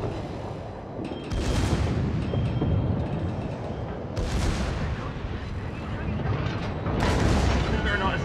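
Heavy naval guns firing armor-piercing shells from a Musashi battleship in World of Warships, with loud booming salvos around 1.3, 4.2 and 7 seconds over a continuous rumbling battle bed, under voice chatter.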